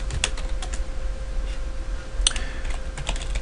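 Typing on a computer keyboard while entering the ipconfig command during an Active Directory and DHCP setup, a steady run of light, quick key clicks at close range with a faint background hum.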